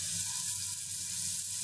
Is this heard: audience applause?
no